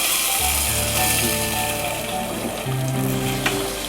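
A tempering of fried shallots and chili hisses and sizzles loudly as it is poured into a Kerala jackfruit-seed and mango curry, a dense, steady crackle lasting throughout with no one speaking.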